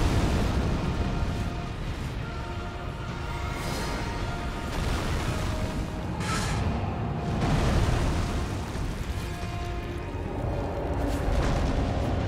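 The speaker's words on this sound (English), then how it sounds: "We're gonna get him to explode." Enemy explosions in the video game Elden Ring, a dense run of loud booming bursts and crackling impacts over about twelve seconds, with no voices.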